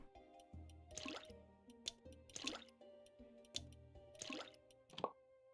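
Water poured in the Graveyard Keeper video game comes as three bursts of wet dripping, plopping game effects, each with a splashy rise, clear and close with no talk over them.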